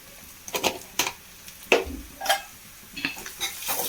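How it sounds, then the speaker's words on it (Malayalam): A spoon stirs crushed chilli frying in a pan, with a soft sizzle beneath a few distinct scrapes and light clinks against the metal, spaced irregularly and close. "അതൊന്ന് നന്നായി ഇളക്കി കൊടുക്കാം"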